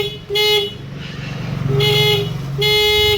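A Suzuki Carry car horn, under repair, honks loudly three times in short blasts, with a low engine rumble between the honks.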